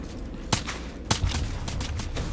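A few loud, sharp gunshots ring out in Call of Duty Black Ops 3, spaced irregularly over a low, steady game background.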